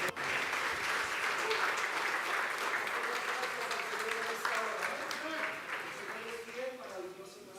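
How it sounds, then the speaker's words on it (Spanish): Church congregation applauding during a service, steady sustained clapping from a crowd in a large room, with voices and other sounds of the gathering mixed underneath throughout. "Dale fuerte ese aplauso al Señor."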